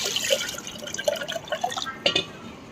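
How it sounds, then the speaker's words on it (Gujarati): Water is poured into churned curd to separate the butter, giving close splashing and gurgling pours with irregular drips and sloshes that swell sharply near the end. "હવે આપણે એમાં પાણી નાખીએ ને એટલે માખણ શેકવા મળશે"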